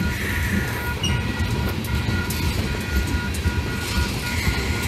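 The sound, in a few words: Wheeling & Lake Erie freight train passing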